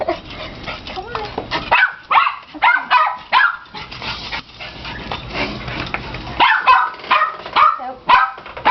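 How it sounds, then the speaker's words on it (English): Barking from Aspen, a pet dog greeting people at the entrance of a home, comes in repeated bursts of varying loudness, mixed with people talking. "As you come in, you're going to hear our crazy dog Aspen"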